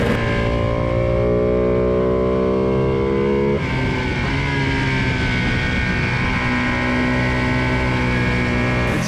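A 2020 Ducati Panigale V2 sports bike is ridden at speed, its engine a loud, steady, close-up drone with a brief dip in pitch partway through, as if shifting gears.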